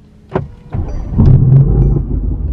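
A Mercedes AMG GT R engine cranks with a couple of clicks, then catches and settles into a loud, deep, steady idle rumble close by.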